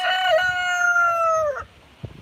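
A single crow from a roughly four-year-old rooster rings out nearby on a windy day, long and steady, then cuts off sharply, followed by a faint rustle in the quiet.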